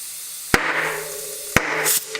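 Tubeless mountain bike tire being inflated with a rush of air, two sharp loud pops as the bead snaps onto the rim, then a smaller click near the end.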